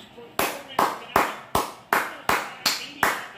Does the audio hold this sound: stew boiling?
no